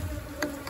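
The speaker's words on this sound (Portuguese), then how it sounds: "Nós vamos chacoalhar essas abelhas dentro da caixa." Honeybees buzzing around an opened bait hive full of honey, a steady insect hum close by with a brief louder swell partway through.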